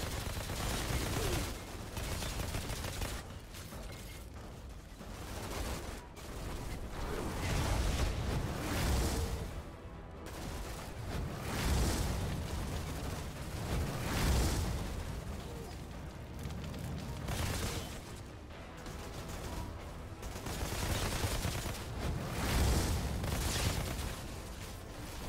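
Continuous explosions and bursts of gunfire fill an intense combat scene in the video game Outriders, loud and dense throughout, with a player's voice occasionally underneath.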